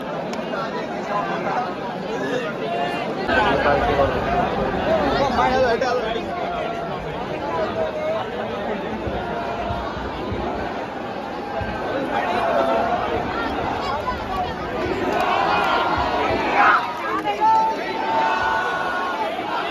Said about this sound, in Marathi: वाटेत गर्दी खूप आहे, जायला वाट जरासुद्धा नाही. बघू शकता तुम्ही किती गर्दी आहे इथे.